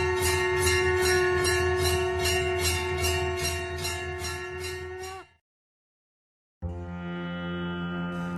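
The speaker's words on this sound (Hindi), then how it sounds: "घाट पर मंदिरों में घंटियां बजने लगती है" Temple bells ring at the ghats of Varanasi during aarti, rapid metallic strikes repeating in a steady rhythm over sustained ringing tones, cut off by a brief silence before the ringing resumes.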